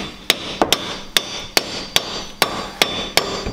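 Hammer taps on the wheel bearing hub of a 2009 Jeep Commander: about ten sharp metallic knocks, close and loud, spaced in an uneven, steady rhythm.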